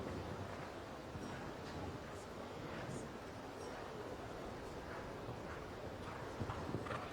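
Show jumping horse's hooves galloping at a Grand Prix, faint rhythmic thuds set far back under steady arena ambience and wind noise.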